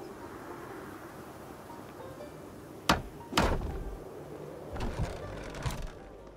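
Building a door in the Project Zomboid video game produces two sharp knocking impacts close together, followed by a few softer thuds over a steady background hiss.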